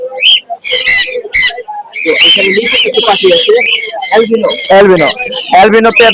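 Pet cinnamon birds at the Mirpur bird market squawk and chirp repeatedly in loud, busy bursts, mixed with other calling birds nearby.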